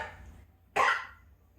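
A single sharp cough bursts out close by, brief and loud against a quiet background.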